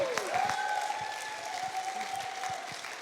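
A congregation at a Pentecostal church service in Brazil claps in praise of Jesus, steady rhythmic applause filling the hall, with a sustained tone, likely from a keyboard or voice, ringing above it.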